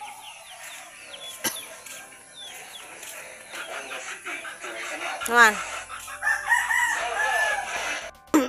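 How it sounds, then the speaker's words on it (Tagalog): A rooster crows loudly nearby in Zamboanga, Philippines, with clucking and other bird chatter around it, and a brief spoken word partway through. "Itong manok na ito, nananampok yan."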